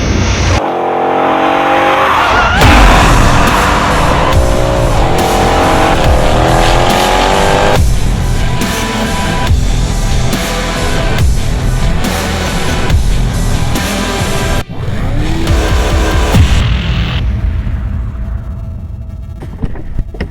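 A loud Mercedes-Benz SLK55 AMG engine in sport mode revs hard and roars through its quad exhaust, rising and falling with gear changes, with crackles and a sudden cut near the middle.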